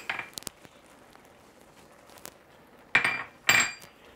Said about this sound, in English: Stir in your red pepper.